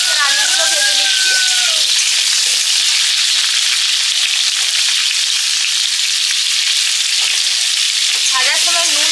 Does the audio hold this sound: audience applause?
no